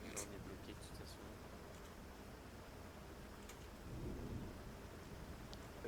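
A thunderstorm in the military shooter BRM5 with deep rolling thunder and constant rain hiss throughout, swelling near the end, while muffled voices sit faintly in the background.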